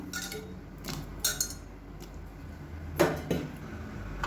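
Metal spoon scraping and clinking against a pot while vegetables and spices are stirred together, a few sharp taps standing out from soft scraping in a quiet kitchen.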